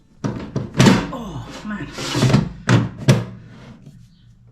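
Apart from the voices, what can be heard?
Ultenic dual air fryer drawer being opened and shut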